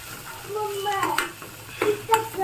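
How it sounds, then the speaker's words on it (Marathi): A spoon stirs moong usal in a pan, giving several close scraping and clinking strokes against the metal with a soft sizzle underneath. "तर याला मस्त असं चम्मचच्या सहाय्याने तर मिक्स करून घेते"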